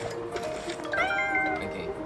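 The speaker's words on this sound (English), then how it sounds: "I'm trying to rescue this cat." A game cat meows in Cats Friend Rescue, a clear drawn-out, wavering mew rising over steady background game music and ambience, heard alone without talk.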